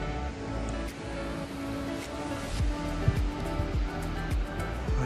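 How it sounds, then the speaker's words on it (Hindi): Continuous rushing water from a waterfall in Dibang Valley, Arunachal Pradesh, a dense broadband roar heard up close with no talk, steady and slightly fluctuating throughout. "चारों तरफ वाटरफॉल।"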